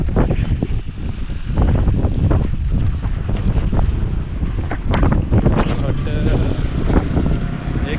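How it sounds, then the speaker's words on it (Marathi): Strong wind blows across a hill fort in rainy weather, roaring and buffeting loudly against the microphone throughout, with voices partly buried under the gusts. "वारा पण सुटला आहे"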